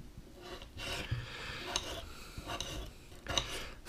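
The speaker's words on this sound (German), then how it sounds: "die schneide ich einmal längs, nochmal längs und mache dann sozusagen mundgerechte Stückchen draus" Knife slicing potatoes lengthwise and then into bite-sized chunks on a board, heard as a few soft, close rasping cuts and scrapes at a quiet level with no talking.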